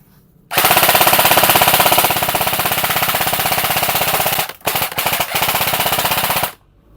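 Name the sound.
airsoft rifle firing on full auto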